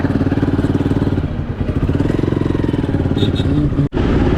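A motorcycle engine runs steadily nearby with a throbbing mid-low drone as a rider pulls away from a parking area at Kolaghat Sher-e-Punjab, the rumble continuous throughout with a brief dropout near the end.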